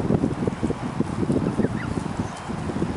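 A flock of geese honks and chatters nearby, with busy overlapping calls and scuffling throughout.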